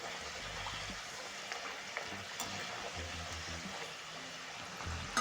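Potatoes and onions sauté in a pan with a soft, continuous sizzle and light crackling, faint and steady throughout, with occasional small stirring scrapes.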